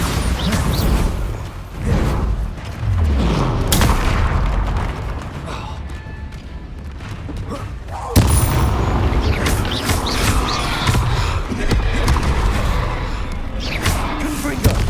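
Bombarda explosion spells in Hogwarts Legacy, a string of loud booming blasts and thuds amid dense game combat noise, continuous and close throughout with a sharp fresh burst partway through.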